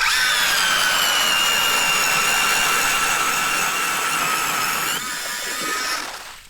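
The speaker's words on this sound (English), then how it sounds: "we have a nice powered auger that we're using" A powered ice auger drills through lake ice steadily with a high, buzzing motor whine and grinding, then slows and winds down near the end.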